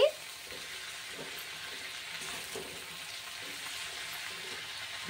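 Tempering spices such as chana dal, cumin and mustard seeds with garlic sizzle steadily in hot oil in a pan, a soft continuous frying hiss heard alone.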